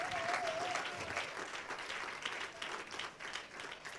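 A church congregation at a Pentecostal service claps in sustained applause for about four seconds, dense and even with a faint voice or tone briefly audible early on.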